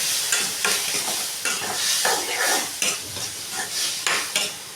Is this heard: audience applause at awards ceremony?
no